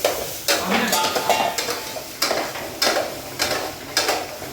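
Onion frying in a pan at a Mahabaleshwar picnic sizzles under repeated stirring strokes, the spoon scraping in a steady rhythm close by.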